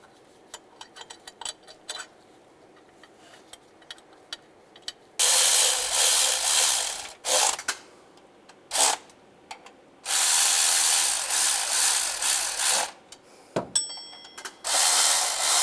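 A ratchet runs bolts into a timing chain cover on a 2007-2013 Chevy Silverado: quick close clicking comes first, then several long, loud bursts of harsh mechanical noise, separated by short pauses.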